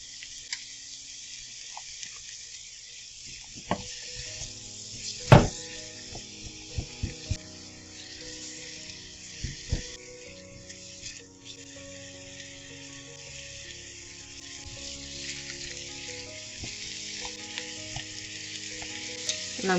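Onion frying in one to two tablespoons of oil in a frying pan, a continuous close sizzle with several sharp knocks and clinks of utensils against the pan scattered through.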